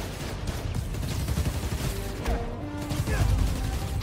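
Bursts of gunfire in the Spider-Man Miles Morales video game, a dense, busy clatter of shots and impacts running steadily throughout under a low rumbling game mix.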